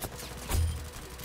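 Rapid burst of Uzi fire in a Roblox shooter game, a short crackling volley of gunshots over a dense, noisy game mix.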